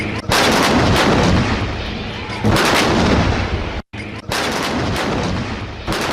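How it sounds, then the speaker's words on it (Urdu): Cannon salute of 21 guns fired to welcome a visiting prime minister at King Khalid Airport in Riyadh: loud, booming blasts with long rumbling tails, a brief gap, then another roaring blast, with no voices. "وزیراعظم کو 21 توپوں کی سلامی دی گئی۔"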